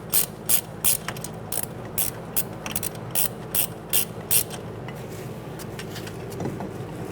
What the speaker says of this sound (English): now we're going to take out this top bolt